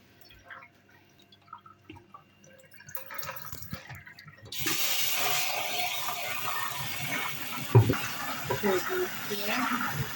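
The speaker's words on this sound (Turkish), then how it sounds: "gece suda beklettiğimiz kuru fasulyenin suyunu süzüyoruz" Water from dried beans soaked overnight pours and splashes steadily as it is strained off. Quieter handling clatter comes first, and the draining has a sharp drip or splash near the end.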